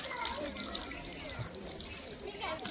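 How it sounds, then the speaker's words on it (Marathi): Water runs from a push-button tap on a hands-free tap and hand-wash station, a steady close trickle and splash that continues evenly throughout. "जेव्हा आपण पुश टॅप प्रेस करतो तेव्हा नळाला पाणी येते।"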